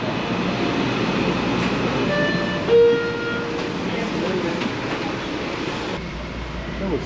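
A Miami Metrorail train sits at a station, its steady rumble and hum filling the space with faint clicks and a brief louder thump midway, and people talk over it.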